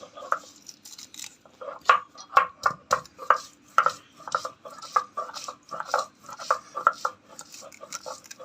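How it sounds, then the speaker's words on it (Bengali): Garlic and ginger being chopped by hand, a steady run of sharp knife taps against a board repeating roughly every half second, close and clear, with faint talk in the background. "রসুন কুচাবো, আদা রসুন একসাথে শিলনোড়ায় পিষা হবে।"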